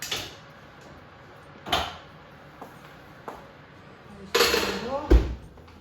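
Fairy cakes lifted from the oven with oven gloves and set on a wire cooling rack, giving a few light metallic clinks and taps spread out, with a louder clattering cluster near the end.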